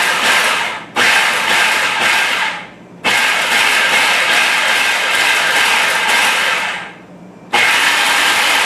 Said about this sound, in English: I'm gonna pulse it